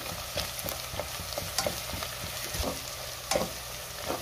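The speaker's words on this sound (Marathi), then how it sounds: "आता आपल्याला ह्याला आले लसणाची पेस्ट घालायची आहे आणि पुन्हा 1 मिनिटभर परतून घ्यायचे" Ginger garlic paste sautéing with onions in a pan, a steady close sizzle and frying hiss broken by repeated scraping stirs of a spatula, with no voices.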